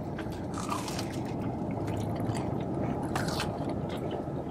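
Close, crunchy bites and chewing on a Korean cheese corn dog, with scattered crisp crackles over steady background noise.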